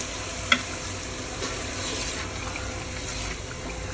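Tomato paste added to hot oil while frying pav bhaji makes a steady, even sizzling hiss close by, with a single sharp click near the start.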